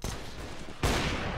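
Gunfire from a wall bang shot in the video game CS:GO, a sharp burst of shots hitting loudly after a brief stretch of rattling fire, with the louder impact about midway through.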